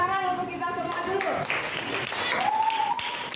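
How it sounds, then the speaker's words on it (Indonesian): Applause from school staff and students at a positive-culture school event, scattered clapping under a voice talking and some tonal sounds, moderate and fairly brief. "Dan tepuk tangan untuk kita semua dulu."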